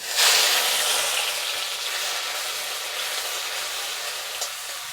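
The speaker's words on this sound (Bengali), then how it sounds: "এটা একটু ভালো করে ব্রাউন কালার করে ভেজে নেব" White mustard seeds with onion and garlic paste frying in oil, a continuous bright sizzle that flares at the start and then settles into a steady, even hiss with faint stirring, no voices.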